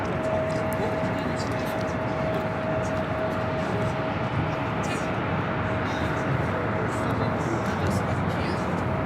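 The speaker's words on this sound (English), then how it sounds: "The next takeoff on the south side is Sichuan Airlines, now rolling." Sichuan Airlines jet airliner on its takeoff roll at LAX, a steady loud broadband roar with a sustained tone running throughout, held at constant level.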